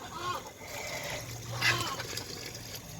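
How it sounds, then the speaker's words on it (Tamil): Liquid fish-based fertilizer splashing and trickling steadily onto soil around a tree, with a brief louder splash partway through and faint background voices. "இந்த இடத்துல இந்த லிக்விடை நம்ம கொஞ்சம் ஊற்றணும்"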